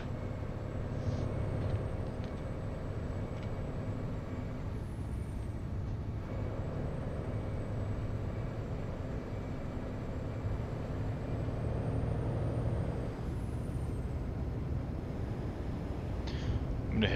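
An ISX diesel engine idles in a heavy truck in American Truck Simulator, a low steady rumble throughout with a faint high whine and a brief hiss or two.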